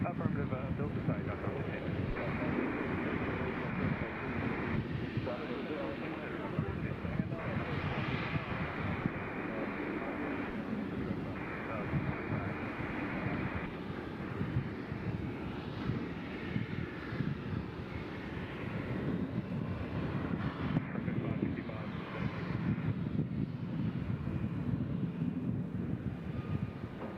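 A jet airliner departs Nashville International Airport, its engine roar swelling and holding steady for the full stretch, broad and wind-buffeted, with occasional voices talking underneath.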